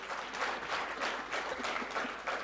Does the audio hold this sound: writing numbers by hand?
no